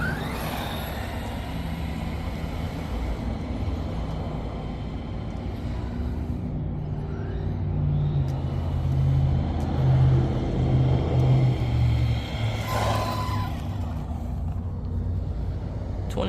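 An Arrma Typhon 4X4 BLX radio-controlled car runs on a 3-cell battery at half throttle, giving a steady electric motor whine over outdoor rumble that swells and rises in pitch midway, then settles, with no voices.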